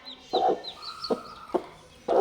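Chickens cluck in short bursts close by, with soft chirping peeps of chicks in between and a louder cluck at the end.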